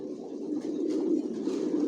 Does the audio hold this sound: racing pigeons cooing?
yes